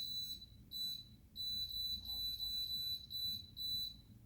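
A Power Quick Pot electric pressure cooker gives a series of sharp, high electronic beeps as its buttons are pressed, several short and longer tones in an uneven run, close and clean.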